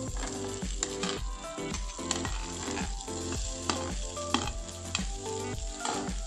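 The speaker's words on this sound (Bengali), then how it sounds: "এবার মশলার সঙ্গে এইগুলোকে আমি খুব ভালো করে আলু ফুলকপিটাকে নাড়িয়ে নেব।" Potatoes, cauliflower and green peas sizzle steadily in a pan with spices, while a spatula scrapes and stirs in a regular rhythm; the frying is close and clear, with no talking.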